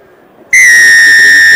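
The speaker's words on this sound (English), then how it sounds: "The referee blows his whistle." A rugby referee's whistle at kick-off in a club match between Villager FC and False Bay RFC: one loud, sustained shrill blast that starts abruptly after a brief quiet moment and holds steady to the end.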